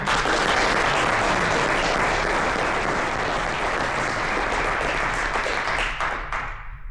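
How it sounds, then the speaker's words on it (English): At an awards ceremony for student AI hardware teams, an audience gives loud, steady applause that carries on for several seconds before trailing off near the end. "Big round of applause for these two teams."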